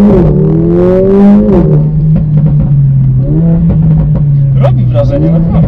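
Modified Mercedes-AMG A45 engine droning and revving as it accelerates, with a whistling intake tone over the engine and a person talking throughout.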